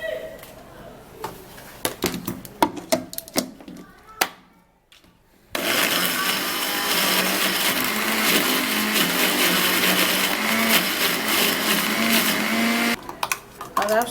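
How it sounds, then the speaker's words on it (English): An electric blender's loud, steady motor whirs for several seconds after a few clicks and knocks, then cuts off abruptly. "And then I'm going to"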